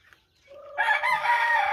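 A rooster in a chicken coop crows once, close and clear, the call rising sharply after a faint cluck.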